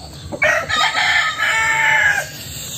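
A golden gray gamefowl rooster, eight months old, crows once up close in a single loud, drawn-out call lasting about two seconds, with no talking over it.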